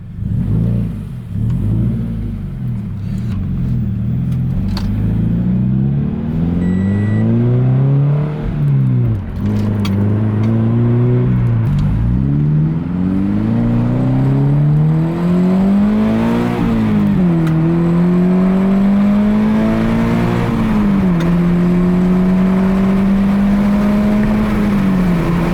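A naturally aspirated Subaru BRZ running a turbo tune drives off, its engine revving loudly in repeated climbing sweeps that drop back between gear shifts, steady and close throughout with no talking.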